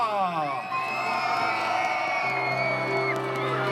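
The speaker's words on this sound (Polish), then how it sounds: "Wielkie brawa z okrzykiem na cześć króla Kacpra!" A crowd at a Three Kings procession whoops and cheers for King Kacper, rising voices and shouts sustained across the moment, with a held tone beneath the cheering.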